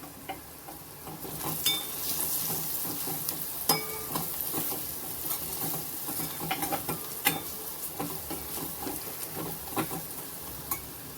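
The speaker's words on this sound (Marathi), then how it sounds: "नंतर गरम मसाला, थोडीशी हळद, थोडं जिरं, मोहरी. बस हे छान आपण परतून घेऊया." Garam masala, turmeric, cumin and mustard seeds sauté in a hot pan with oil, crackling and sizzling steadily while a utensil stirs and scrapes against the pan with occasional sharp clinks.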